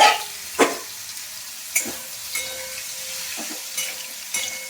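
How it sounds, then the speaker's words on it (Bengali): Boiled potatoes stir-fried with garlic in a wok: sizzling oil under repeated scraping and stirring strokes of a spatula, several distinct scrapes spaced across the stretch, close and clear. "আলুটা দিয়ে কষে নেবো।"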